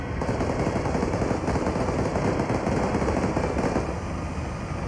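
A vehicle's coaxial machine gun fires during Marine live-fire training, a loud, sustained roar of rapid automatic fire that runs unbroken for several seconds with no talk over it.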